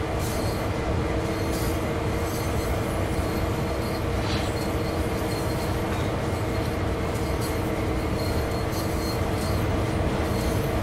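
An old diesel locomotive on the Clinchfield line in Train Sim World 2 rumbles continuously with a steady engine drone, faint wheel squeal and rail noise, loud and unbroken throughout.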